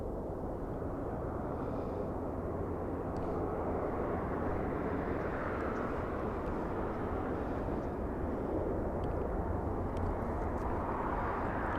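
A Southwest airliner from Las Vegas touches down at LAX, a steady broad jet roar that swells slightly and holds without letup, with no talk over it.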